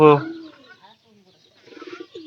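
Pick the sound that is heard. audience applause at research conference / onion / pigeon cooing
pigeon cooing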